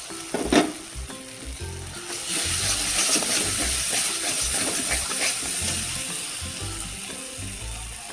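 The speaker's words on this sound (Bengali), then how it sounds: "আর একটু পালকটায় এখন ভেজে নিব। ভেজে একটু নাড়াচাড়া করবো মশলার সাথে।" Spinach frying with spices for palak paneer, a close continuous sizzle with occasional stirring scrapes, under background music.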